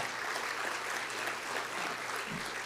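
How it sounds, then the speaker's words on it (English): Audience applause at the Port Corpus Christi State of the Port 2025 event, a continuous even patter of many hands heard from a distance, fairly soft and steady throughout. "Let's give these people a round of applause."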